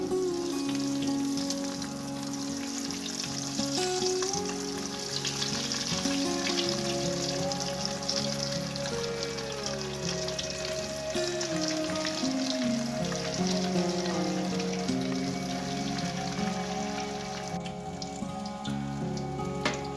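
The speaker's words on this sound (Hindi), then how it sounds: "अब इनको फ्राई कर लेंगे ऑयल में। ऑयल हमारा गर्म हो चुका है।" Bread patties frying in hot oil, giving a continuous close sizzle and bubbling crackle under a layer of background music throughout.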